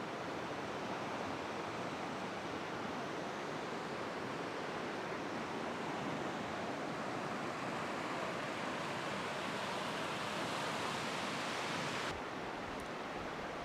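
A river rushes through a New Zealand river valley on a backcountry hiking track, a steady, dense broadband roar of flowing water that holds constant and close throughout with no voices.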